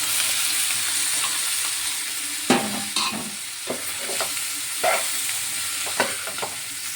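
Boiled black-eyed beans tossed into a hot pan with green chilli and salt, a steady oil sizzle running throughout while a spoon scrapes and stirs in several distinct clunks and scrapes, close and alone with no talking.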